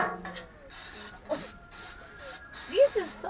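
Several short bursts of hissing nonstick cooking spray onto two pans, close up, separated by brief pauses, with a few faint voices and clatter in between.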